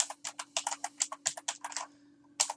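Quick bursts of typing on a computer keyboard, close and crisp, clusters of keystrokes with a short pause before a final few taps.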